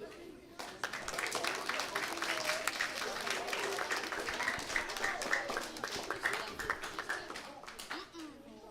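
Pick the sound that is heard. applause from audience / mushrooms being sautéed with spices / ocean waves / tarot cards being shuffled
applause from audience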